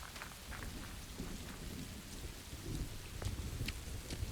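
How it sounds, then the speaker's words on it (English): Steady rain with rolling thunder in the survival game Rising World, a dense hiss of pouring rain with low rumbles underneath, soft and continuous with no talking. "Ooh, a little thunder too, a little lightning."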